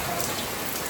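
Steady rain pouring down on a surface outdoors, a dense, even hiss of raindrops that fills the moment with no voices.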